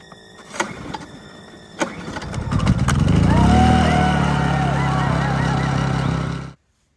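A Honda EU2200i inverter generator running on propane is pull-started, with a couple of sharp cord pulls before the engine catches and runs at a steady, close, loud hum that suddenly cuts off. A voice talks over it.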